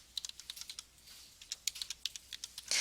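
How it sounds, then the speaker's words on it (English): Computer keyboard keys click in quick, uneven bursts of close, light taps as records are entered, with a louder clatter at the very end. "you'll finish typing the rest of the information in"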